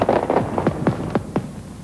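Midnight fireworks at a Japanese New Year celebration crackle and pop in a quick series of sharp reports, several bursts close together with a low rumble between them.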